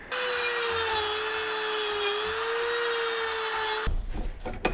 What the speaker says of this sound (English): I'm going in with the Dremel tool, kind of smoothing everything out so those wires can fit through there nicely.